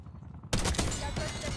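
Shotgun fire in the video game Black Ops 6 erupts suddenly after a quiet start, a loud dense burst of blasts and clatter that keeps going to the end.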